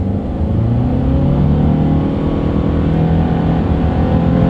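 A 2023 Subaru Outback with a CVT accelerates to speed, its engine drone loud and steady from inside the cabin while the pitch climbs smoothly without gear shifts.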